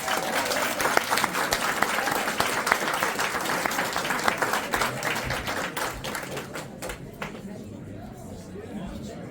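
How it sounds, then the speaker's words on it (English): A round of applause for Ralph at a Trump petition drive in Bergen County, a crowd clapping quite densely for several seconds with scattered sharp claps, then thinning and fading toward the end amid chatter and voices. "let's get a round of applause for Ralph"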